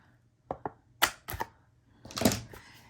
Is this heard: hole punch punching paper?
yes